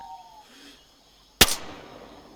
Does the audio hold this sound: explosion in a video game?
yes